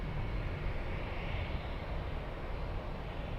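A Lufthansa airliner departing Munich airport roars steadily as it powers down the runway, a loud broadband engine rush that holds constant throughout.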